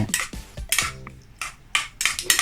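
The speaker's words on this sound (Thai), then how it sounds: "คนแล้วก็คนก่อนคนให้แบบมันซึมซึมมา" A utensil stirring and mixing ingredients in a pan for a Thai salad of batter-fried canned fish makes sharp metallic scrapes and clinks in irregular bursts, close and fairly loud.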